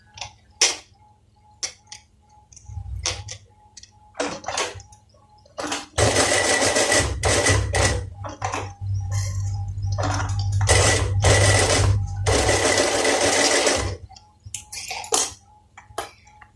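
A sewing machine stitches a fold over the narrow button strip of a gents' shirt placket, running in bursts. Short quick runs and ticks open it, then a long steady whir carries through the middle before ending in a few brief stops and starts.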